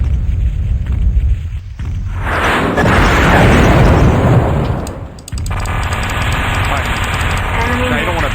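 Loud missile explosions in MechWarrior 2 NetMech, a heavy booming blast swelling for a few seconds, then a sharp break followed by further rumbling impacts and crackling debris, dense and close.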